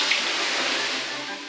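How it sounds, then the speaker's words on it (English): Water poured over hot stones in a Finnish sauna, a steady broadband hiss and sizzle filling the space close by, continuous and fairly loud for a short moment. "pulling water over the stones, getting the heat up"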